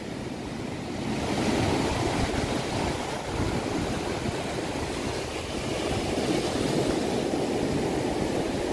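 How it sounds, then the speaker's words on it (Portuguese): Strong wind roars across the microphone at Praia da Armação in Penha on a hot day, mixed with the continuous wash of surf, loud and gusting throughout with no voices. "Tá ventando muito, o celular não para focado."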